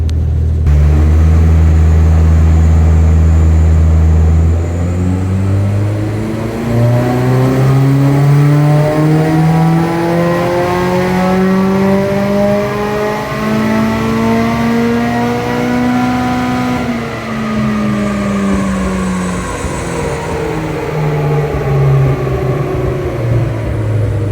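A Mitsubishi Evo 7 time attack race car's engine sits at a loud idle, then climbs steadily through a long rising rev that peaks and falls back, heard close and dominant with no talking.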